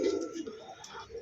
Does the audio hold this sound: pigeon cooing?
yes